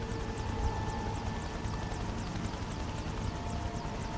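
A helicopter in the video game Prototype drones along at moderate distance, a steady rotor and engine hum with faint repeating chop under quiet game ambience.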